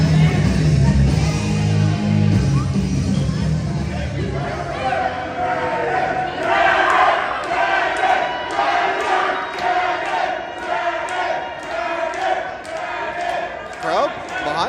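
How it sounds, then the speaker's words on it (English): A wrestling crowd roars and chants in support of Dragon, a loud sustained din with rhythmic pulses of clapping or stomping, while a commentator talks over it. "Crowd behind Dragon."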